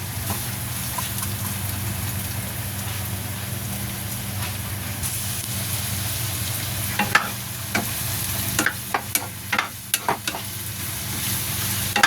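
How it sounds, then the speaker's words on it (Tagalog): Onion and chili sauté in a hot pan for lumpia filling, a steady loud sizzle throughout, with a few clattering stirs of a utensil toward the end and no voices. "sunod ko na nilagay itong isa pa, itong sibuyas at saka sili. Igisa muna natin ito bago yung itong karne."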